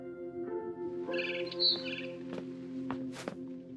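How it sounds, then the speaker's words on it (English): A barn swallow chirping in the video game What Remains of Edith Finch: short bright tweets over a soft sustained musical hum, several calls scattered through the scene. "Then I heard chirping outside my window."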